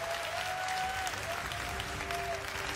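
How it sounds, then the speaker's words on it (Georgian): Theatre audience applause at a live televised Georgian quiz show semifinal, steady and moderately quiet, with a faint tonal hum running underneath. "გამაგონეთ თქვენი აპლოდისმენტების ხმა."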